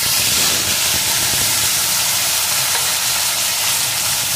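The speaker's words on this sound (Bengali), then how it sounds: "এখন এর ভিতরে আমি লবণ হলুদ মাখানো মাছগুলোকে দিয়ে দেব।" Small fish rubbed with salt and turmeric fry in hot mustard oil, producing a loud, close, continuous hissing sizzle with a dense crackle that stays steady from start to finish.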